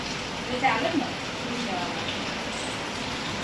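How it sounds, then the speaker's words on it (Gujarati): Steady hiss of heavy rain falling outside, an even wash of sound throughout with a brief louder patter near the start. "બહાર તો ભાઈ વરસાદ ચાલુ થઈ ગયો એકદમ ફૂલ"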